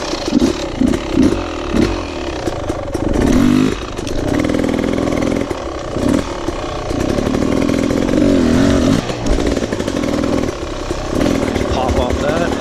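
Beta enduro dirt bike ridden on a trail over logs, its engine droning loudly and steadily with throttle surges and revs, while a rider talks over it.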